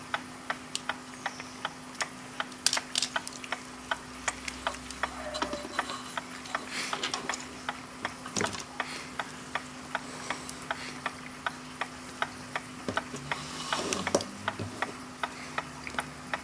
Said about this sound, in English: that's holding the two electrical wires in place, and we'll slowly remove the motor